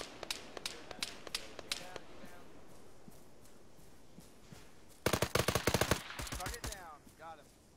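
Arma 3 gunfire in a co-op firefight, scattered sharp single shots early, then a dense rapid burst of automatic fire, moderately loud and slightly distant.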